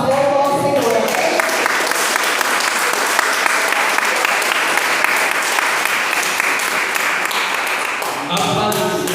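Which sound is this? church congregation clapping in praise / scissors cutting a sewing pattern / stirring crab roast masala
church congregation clapping in praise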